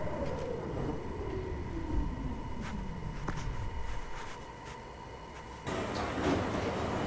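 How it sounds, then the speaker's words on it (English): A simulated NYC subway D local train in Roblox rolls along with a motor whine that falls steadily in pitch as it slows, with scattered track clicks, then the rumble abruptly brightens and grows louder near the end. "This is an Old Broad Street bound D local train."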